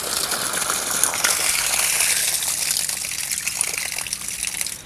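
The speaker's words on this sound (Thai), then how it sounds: "น้ำแรงพอใช้ได้" Water from a solar-powered pump on a farm gushes hard and steady, a loud continuous splashing rush with no talk over it.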